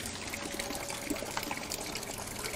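Water mixed with a little coolant draining from a Porsche 911 996 into a bin, a steady close trickle and splash with constant wash, no talking.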